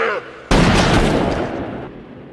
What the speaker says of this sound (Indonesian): Hingga pada akhirnya Humbert berhasil membunuh Quilty dengan menembakkan beberapa peluru